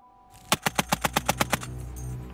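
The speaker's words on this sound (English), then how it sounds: "Our machine gun operates due to the short recoil of the barrel." Short-recoil machine gun firing one rapid burst of about nine loud, evenly spaced shots, followed by a lingering echo and rumble.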